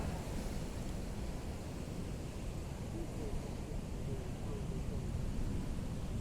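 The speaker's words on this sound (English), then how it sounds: "looks like some good waves are going to start coming in here in a second" Steady ocean surf rushes and roars continuously on the Oregon coast, a broad wash of breaking waves with no distinct pauses, fairly distant.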